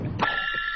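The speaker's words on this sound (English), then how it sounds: "hold on, my phone's ringing." A telephone rings with a sustained electronic trill that follows a brief bit of voice, close and clear.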